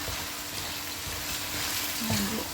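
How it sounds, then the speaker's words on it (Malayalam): Curry leaves sizzle and crackle in hot oil in a pan for a Kerala-style pork roast, a steady close frying hiss with a brief flare of sputtering near the end. "ഈ സമയത്ത് ഞാൻ കുറച്ച് കറിവേപ്പിലയും കൂടെ ഇട്ട് കൊടുക്കുകയാണ്"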